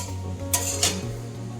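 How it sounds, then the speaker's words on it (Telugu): Peppercorns, dried chillies and tamarind dry-fry in a pan, with two quick scraping strokes of a spoon against the metal over a low background hum and no talking. "ఇక డ్రైగా ఫ్రై చేస్తున్నానండి. ఈ డ్రైగా ఫ్రై చేస్తుంటే దీనిలో మాయిశ్చర్ అంతా మొత్తం పోవాలి."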